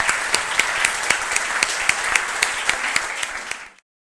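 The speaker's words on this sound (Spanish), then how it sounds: "Bueno, le aplaudimos primero." Audience applause at a book presentation, a dense steady burst of many hands clapping in a room for about four seconds, then stopping abruptly.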